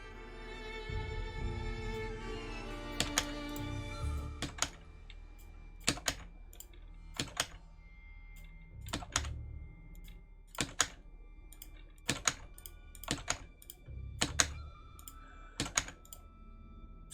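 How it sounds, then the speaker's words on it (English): Computer keyboard typing picked up closely by a microphone: sparse, distinct clacky keystrokes and occasional short bursts spread irregularly across the span, with brief rustling early on. "everyone thinks my keyboard's loud because my microphone picks it up really well"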